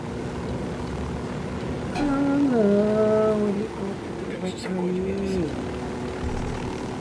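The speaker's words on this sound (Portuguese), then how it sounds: "Eu vou pegar o helicóptero e vou embora." A helicopter in a Ghost Recon video game gives a steady rotor and engine drone throughout, with a rising pitched whine layered on top. A voice talks over it in places.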